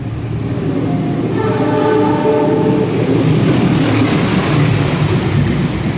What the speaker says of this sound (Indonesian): KA Sembrani bersiap melintas stasiun Karawang dengan kecepatan yang cukup tinggi, maksimal 110 km per jam